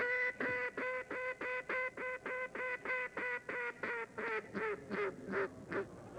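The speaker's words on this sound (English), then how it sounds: "These are duck calls. I've got one around my neck, and I'll blow that for you." A duck call blown in a rapid series of about fifteen loud nasal quacks, evenly spaced and then breaking into shorter, rougher bursts near the end, close and alone with no talking.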